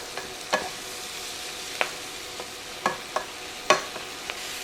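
Minced garlic fries in a skillet under a soft, steady sizzle, with a handful of distinct utensil scrapes and taps as it is stirred in, close and fairly quiet.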